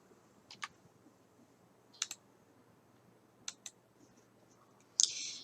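Mouse clicks on a computer while working in PowerPoint: several sharp, quiet clicks, single and doubled, spaced apart, ending in a brief louder burst over faint room hiss.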